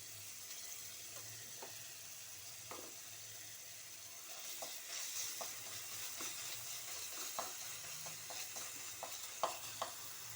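Capsicum with ginger-garlic paste frying in oil in a pan, giving a soft, steady sizzle with occasional stirring scrapes, faint and close with no talking.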